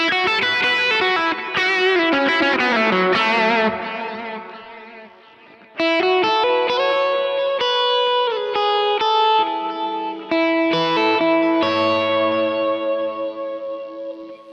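Electric guitar on the bridge pickup through a Kemper with moderate overdrive, playing ringing chords and picked notes, full and slightly gritty but not harsh, with echo and reverb tails, no talking.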